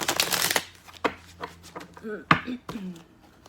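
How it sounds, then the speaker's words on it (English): Tarot cards riffle and shuffle in quick flicks, close up and fairly quiet, followed by a few soft taps while a voice speaks. "Beautiful shuffle on the way in."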